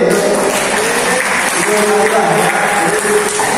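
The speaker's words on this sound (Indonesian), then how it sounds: "tepuk tangan dulu nih" An audience at an installation ceremony in Jakarta claps loudly in a brief burst, with voices and tonal sounds mixed in over the clapping for a few seconds.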